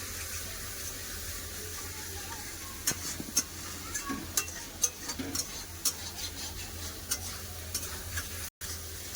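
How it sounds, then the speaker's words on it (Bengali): Fried potatoes being stir-fried with spices in a pan, a low continuous sizzle broken by a series of sharp spatula taps and scrapes against the pan. "আলু দিয়ে ভালো করে মশলার সাথে কষে নেব"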